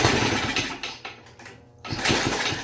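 A go-kart's newly fitted engine cranks and catches with a rough mechanical roar, dips and sputters briefly, then surges back up, loud and close.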